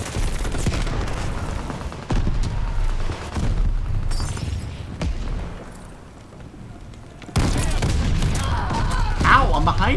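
Shotgun blasts and gunfire in the video game Call of Duty: Vanguard, loud and dense across the clip with booming impacts and a sharp burst near the end, mixed with in-game clatter and a voice talking.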